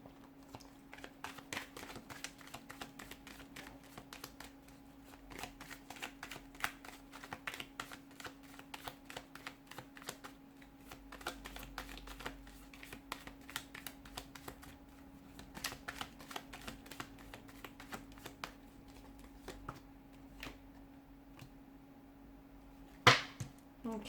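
Tarot cards being shuffled in a quiet room, a steady run of soft, rapid riffling and flicking clicks, fairly faint and close, over a constant low hum with no talk.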